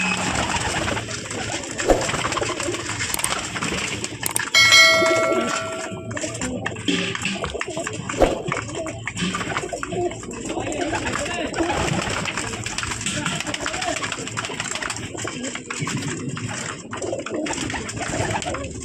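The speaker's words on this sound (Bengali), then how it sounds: "দেখতে পাচ্ছ করিমুল্লার পায়রা" Pigeons cooing at a pigeon farm in Magrahat market, a steady layered mix of soft coos and bird calls throughout, with some speech and background noise underneath.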